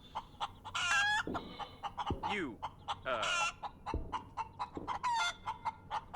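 A chicken in the space-survival game Breathedge clucks and squawks repeatedly in loud, choppy bursts, with a brief voice and other game sounds mixed in.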